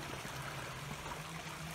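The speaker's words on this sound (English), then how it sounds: "there's water running, and that is a good sign that the waterfall will be going" Running water from a stream at Red Rock Canyon gives a faint, continuous trickling rush that holds steady throughout.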